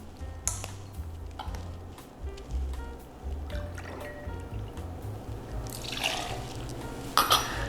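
Vanilla rum being poured as the first ingredient of a Porn Star Martini cocktail, a soft liquid trickle with faint glassy clinks and drips over low background hum, no voices.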